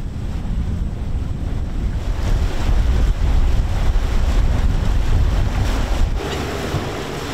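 A sailboat motors with no sails up through rough water in a strait, with loud, steady wind and wave noise buffeting the microphone over a low engine rumble, continuous throughout and easing slightly near the end.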